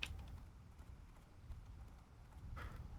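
Horse hooves clip-clop steadily in a video game, a soft, even rhythm of footfalls running through the short stretch with a faint low rumble underneath.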